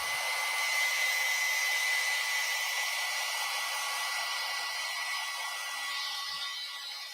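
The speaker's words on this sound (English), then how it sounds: "Now I'm going to take a heat gun and dry that up." A heat gun blows steadily to dry acrylic paint mixed with glazing medium, giving a loud, continuous airy whir that holds level for the whole stretch with no talking.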